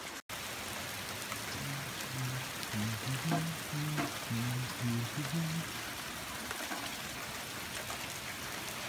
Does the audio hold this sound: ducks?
no